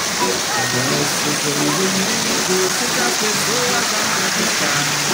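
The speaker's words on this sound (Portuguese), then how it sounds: "Muito bonita aqui a cachoeira." A waterfall in the state of Pará, Brazil, roars continuously, a broad wash of falling water with faint voices mixed into the noise.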